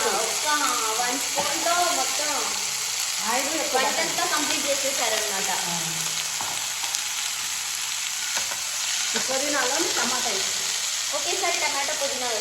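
Mint leaves fry in oil with a steady, close, loud sizzle and hiss that runs throughout, while a voice talks over the cooking.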